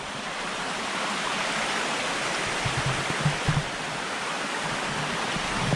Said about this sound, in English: There's the waterfall down there.